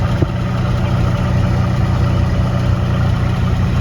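A steady, low engine idle rumbles close by from the factory exhaust of a 1971 Ford F100 truck, even and unbroken with no revving and no voices.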